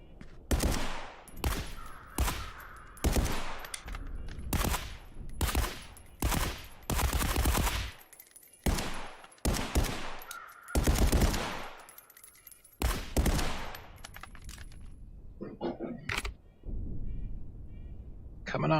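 Bursts of AK rifle fire at a firing range in the VR shooter Contractors VR, repeated volleys of close, loud shots separated by short pauses, with spoken commentary between them.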